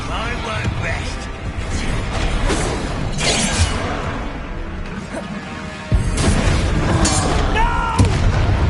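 Fire spell explosions in Hogwarts Legacy: dense, loud booms and blasts with crashing debris, running continuously under battle chatter and shouting voices, with a sharp new blast near the end.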